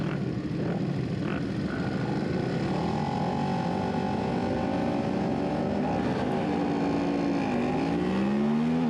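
Racing motorcycles roar off the start of an ultralight superbike road race at Summit Point, West Virginia, with engines rising and shifting in pitch, loud and close throughout and no talk over them.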